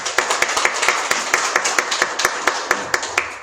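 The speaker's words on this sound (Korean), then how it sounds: "우리 박수로 환영해 주십시오." Welcoming applause from a Korean Sunday church congregation for a newcomer, with distinct rhythmic hand claps at a steady pace, moderately close and fairly loud, continuing for several seconds without speech.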